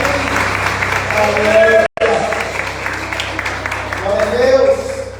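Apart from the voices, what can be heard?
church congregation applauding the Lord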